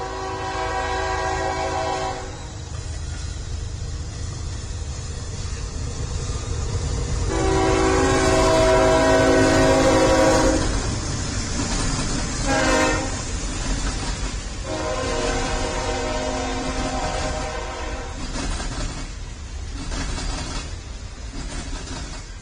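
A simulated freight train in Train Sim World 2 rumbles steadily on the Horseshoe route toward Cresson, a continuous low engine drone with repeated blasts of its multi-tone horn, the longest and loudest midway through, heard alone without talk.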